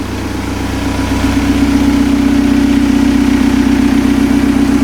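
Swapped-in TDI diesel engine idling in a Toyota after an injection pump repair, a steady close clatter with a strong, even hum that builds slightly in the opening second and then holds.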